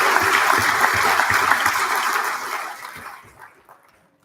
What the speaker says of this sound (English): one last round of applause for all those who volunteered and worked for their community this year